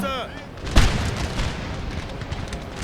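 Infantry volley fire on a Napoleonic battlefield in a strategy game, one sharp booming musket volley followed by rolling, crackling echoes, with someone talking over it.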